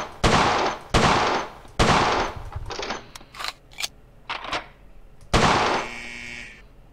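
A Colt 1911 pistol fires in a World of Guns shooting range: several sharp, loud single shots with pauses between them, followed by quieter metallic clicks and clatter. One final loud shot ends in a ringing tone.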